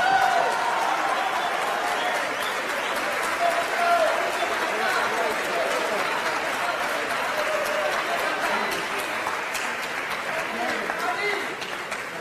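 Applause for Charly García at the Gardel awards ceremony, a steady wash of clapping and crowd noise filling a large hall, sustained at an even level throughout with occasional louder bursts and a voice over it.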